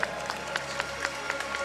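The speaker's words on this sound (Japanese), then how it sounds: "どうぞ拍手をお送りくださいませ" Audience at a K-1 World GP 2017 kickboxing lightweight title event applauding in a short burst, with scattered claps and crowd noise rising and falling at moderate volume.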